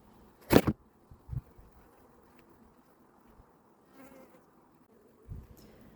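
Honey bees buzz steadily at low level as they are shaken off the top of a honey frame while a hive sample is taken for foulbrood testing. A few louder thumps and bursts of knocking stand out over the hum.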